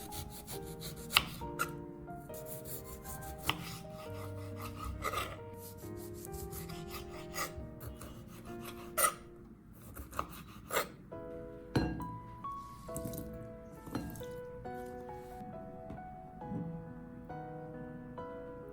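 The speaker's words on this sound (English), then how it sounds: "For the other lemon, I'm going to peel it and cut it into cubes." Lemon being peeled and cut into cubes on a board, with rasping peel strips, soft knife chops and occasional light clinks, close and steady with no talk.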